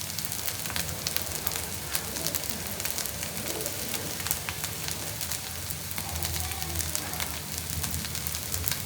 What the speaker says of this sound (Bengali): 2 মিনিটের মতন ভাজা ভাজা হয়ে গেলেই